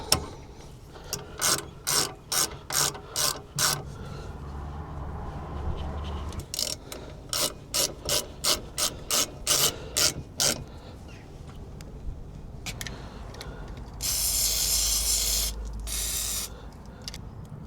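A ratchet tightens a van's handbrake mechanism in bursts of loud, rapid clicking strokes, repeated in two long runs with pauses, followed by a short harsher rasp near the end.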